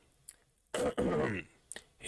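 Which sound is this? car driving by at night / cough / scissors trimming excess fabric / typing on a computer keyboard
cough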